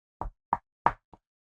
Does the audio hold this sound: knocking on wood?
yes